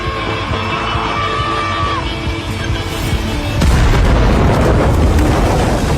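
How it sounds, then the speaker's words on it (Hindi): A loud boom from an explosive detonating near a cave bursts in partway through, followed by sustained rumbling noise, after a stretch of steady background din with a faint tonal whine. "वह विस्फोटक के फटने से ठीक पहले समय पर बाहर निकलने में सफल रहा।"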